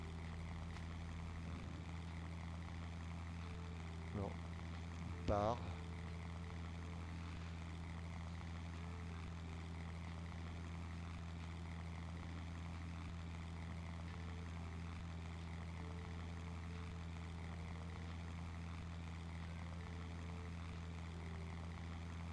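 Propeller engine of a Latécoère 28 in a flight simulator running at reduced rpm, a steady low drone throughout with a faint voice and a couple of brief clicks early on.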